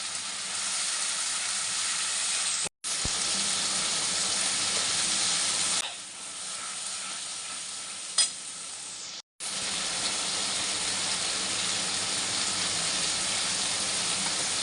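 Bengali-style hilsa fish curry with ground cumin, coriander, chili and ginger paste sizzles in fish oil, with a loud steady frying hiss, two brief cutouts and a quieter patch midway.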